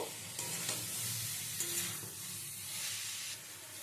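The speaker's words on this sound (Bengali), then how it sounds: "এবারে দিয়ে দেবো আমি এর মধ্যে ভেজে রাখা সবজিগুলো, কচুরগাঠি, আলু, ক্যাপসিকাম, পেঁয়াজ সমস্ত কিছু দিয়ে ভালো করে মিশিয়ে নেব।" Fried taro stems, potato, capsicum and onion stirred together in a pan, a soft, steady sizzle with gentle, repeated stirring scrapes throughout and no talking.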